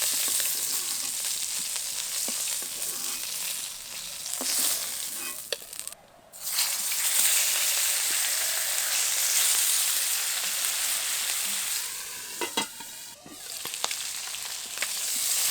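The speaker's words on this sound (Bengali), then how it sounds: "শিঙি মাছ কিন্তু খুব বেশি কড়া করে ভাজবো না, ভাজা হয়ে গেছে, এবার তুলে নেব।" Singi catfish frying in oil sizzles with a loud, continuous crackling hiss, broken briefly by a few pauses and utensil knocks.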